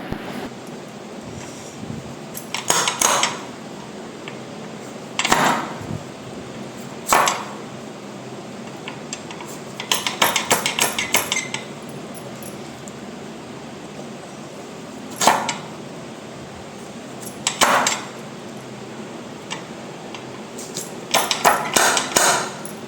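Raw mangoes for pickle are split with an adkitta nut cutter, giving sharp cracking snaps in scattered single and clustered bursts, fairly close, over a steady windy hiss.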